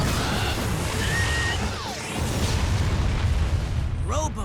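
A cartoon missile fired from a head blasts with a loud booming crash and a rumbling burst, mixed with animated sound effects and a few whooshing sweeps before a sharp ringing hit near the end.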